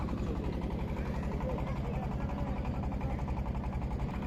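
A river boat's engine leaving Balasighat for Sanandabari putters in a steady, fast, close rhythmic drone with even loudness throughout.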